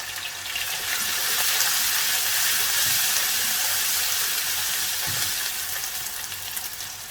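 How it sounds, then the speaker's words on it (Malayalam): Finely chopped ginger sizzles in hot oil in a pan for a duck pepper roast, a steady broadband frying hiss that holds loud and even for several seconds with faint stirring clicks underneath. "ഇഞ്ചി അങ്ങോട്ട് ഇട്ട് കൊടുക്കാം."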